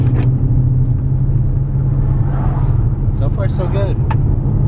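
Lexus LS400 on SSR Vienna Kreis wheels, lowered and stanced, rolling down the road with a steady low engine and road rumble heard from inside, while a person talks briefly over it.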